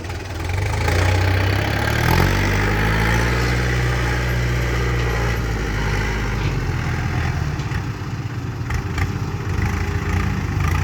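A tractor engine runs steadily at idle, a low continuous rumble with a slight knocking throb, close by and without talk.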